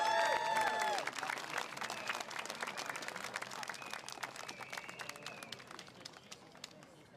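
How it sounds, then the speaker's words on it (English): Crowd applause at an evening political election rally in Singapore, greeting the next speaker on stage, dense clapping strongest at the start and slowly thinning out, with a voice briefly carrying over it. "Can we give a round of applause for Jufri from Sembawang GRC"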